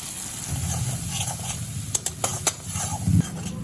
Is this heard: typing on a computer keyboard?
no